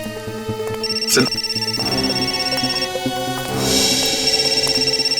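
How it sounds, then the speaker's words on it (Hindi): A phone rings with a repeating electronic tone, fairly loud and continuous, with busy background noise around it. "सिद्धार्थ का फोन"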